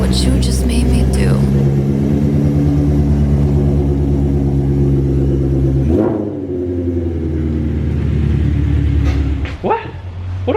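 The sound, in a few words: Shelby GT350 with full exhaust engine rumble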